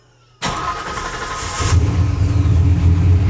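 An old green truck, its fuel system just primed, cranks briefly and then catches, settling into a loud, close, steady idle with a deeper rumble as the engine picks up.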